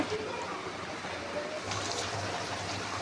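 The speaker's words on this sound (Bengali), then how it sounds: "ফুটছে" Chicken roast curry boils in a covered pot, giving a low, steady bubbling and simmering hiss that stays even throughout with no talk.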